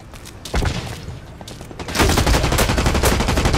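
Rapid gunfire from a first-person shooter game, Blacklight Retribution, with a headshot: a loud burst near the start, then a sustained, denser stream of shots through the second half.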